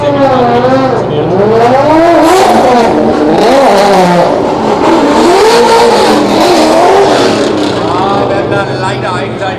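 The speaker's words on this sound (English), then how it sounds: "Volvo 745 Estate versus Ford Mustang, RTR Mustang." A Volvo 745 Estate and a Ford RTR Mustang drift car rev hard at a night drift practice in Germany, their loud engines rising and falling in wavering bursts, with a commentator's voice running over the top.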